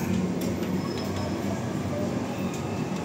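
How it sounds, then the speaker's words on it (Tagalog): An MRT train at Cubao station gives off a steady, moderately quiet rumble with faint clicking throughout, and no one speaks over it. "Ito po yung MRT station ng Cubao."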